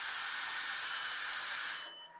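A hair dryer on heat setting 3, powered from a Growatt Infinity 1500 portable power station, blows with a loud, steady rushing whoosh, then cuts off abruptly near the end.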